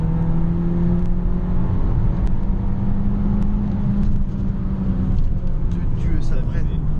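An Abarth 595 with a very stiff chassis drives and brakes hard, its engine drone steady and close throughout with a low rumble, while people talk over it.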